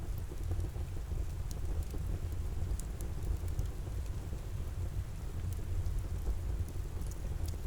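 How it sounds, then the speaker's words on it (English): Steady rain falls with a deep, rolling thunder rumble underneath, a continuous soft wash of drops and scattered crisp ticks, at an even level throughout. "The gentle rhythm of the rain mirrors your breathing,"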